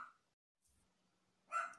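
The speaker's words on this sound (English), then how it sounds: "That's the dog barking now." A dog indoors barking at passers-by from a window: a short bark at the start and a louder, fuller bark near the end, with quiet gaps between.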